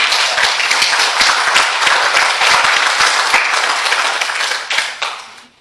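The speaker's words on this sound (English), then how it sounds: "let's give everyone just a round of applause" A crowd claps enthusiastically in dense, sustained applause that fades out over the last second.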